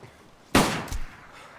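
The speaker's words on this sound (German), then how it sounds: "Das war eine Magnum" A single Magnum gunshot rings out in the survival video game DayZ: one sharp, fairly loud crack that decays over about a second, with a faint second thump just after, and no talk.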